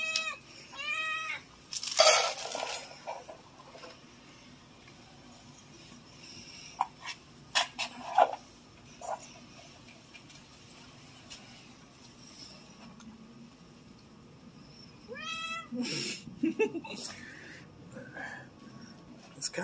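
A rescued tabby cat eating a largemouth bass gives several short, fairly faint meows, a cluster early on and another near the end, separated by quiet stretches with occasional small noises.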